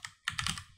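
Quick keystrokes on a computer keyboard: a short burst of several close clicks in an uneven rhythm, with no talking.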